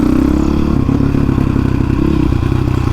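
Honda CRF 450X supermoto motorcycle engine revving and running hard, a loud close buzzing drone with rapid firing pulses and some clattering, steady throughout.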